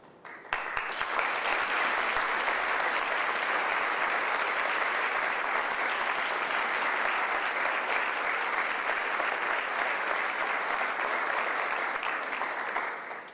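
Sustained audience applause at a Women of Courage Award ceremony, a steady dense wash of clapping from a large crowd that starts almost at once and holds evenly to the end.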